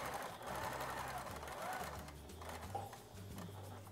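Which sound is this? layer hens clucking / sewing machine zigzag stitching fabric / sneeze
sewing machine zigzag stitching fabric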